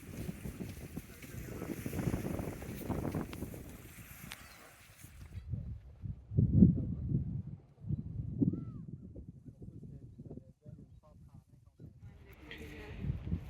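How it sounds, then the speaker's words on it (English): Gusty wind buffets a microphone at a campsite, rumbling in uneven bursts that fade and return, with voices talking over it. "bit windy today"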